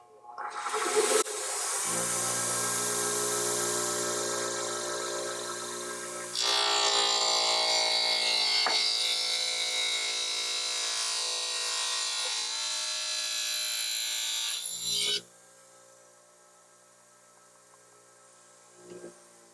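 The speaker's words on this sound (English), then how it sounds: "So they're going to take a little bit more to get through your cutting wheel." A powered cutting wheel grinds through a BGT Carbon Pro carbon putter shaft in a workshop, a steady loud whining hum that shifts pitch midway, then cuts off, leaving a faint lower drone.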